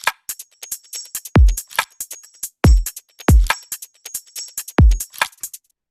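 A produced electronic drum loop with a clicky kick drum plays loud and up front, with deep booming kick hits every second or so over a fast, crisp pattern of ticking hi-hats and snappy hits.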